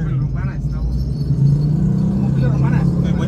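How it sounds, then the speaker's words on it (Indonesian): A car driving past on a road, heard as a loud low engine rumble that holds steadily and grows a little stronger midway, while people talk excitedly over it. "Eh, mobil"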